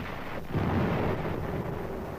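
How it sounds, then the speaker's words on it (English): Gunfire from a firefight in an archival war film, heard as a dense, rumbling barrage of distant shots and blasts under steady noise, growing heavier partway through. "A firefight begins."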